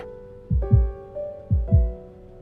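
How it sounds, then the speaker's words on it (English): A stylized heartbeat sound effect from the game Love and Deepspace, with two double-thump beats, deep and soft, over a sustained synth pad tone with no voices. "can you hear my heartbeat?"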